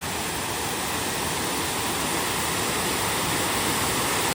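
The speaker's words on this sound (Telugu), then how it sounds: "ఈ వాటర్ ఫాల్ చూడండి" Waterfall in Cherrapunji, Meghalaya, a dense, steady roar of falling water filling the whole clip without a break, loud and close, with no voices.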